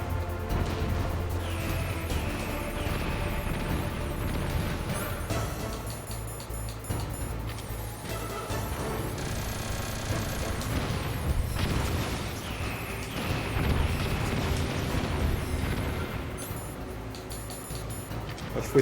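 Dense, continuous game combat in Metal Gear Solid, with gunshots and crashing blasts layered over a loud, steady wash of rumbling noise and music, with no clear speech.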